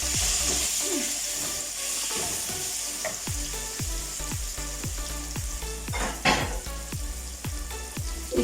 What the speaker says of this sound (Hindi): पैन हमारा हो गया गरम। अब इसमें चिकन डाल देते हैं।